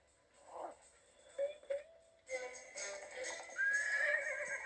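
A horse in the video game SpongeBob SquarePants: The Cosmic Shake whinnies loudly, a rising then falling neigh following a few brief knocks and tones, with clip-clop-like sounds.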